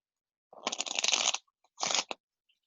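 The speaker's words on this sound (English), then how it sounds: "So we're gonna shuffle the cards." Deck of playing cards being shuffled by a magician, a dense riffling burst of about a second followed by a shorter second riffle, close and crisp with no talk.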